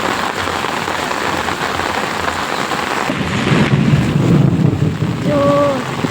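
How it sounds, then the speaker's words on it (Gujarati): Heavy monsoon rain pours steadily and loudly, with a deep roll of thunder building in the second half; a faint voice-like tone briefly appears near the end. "તમે બધા જોઈ શકો છો કેટલો વરસાદ આવે."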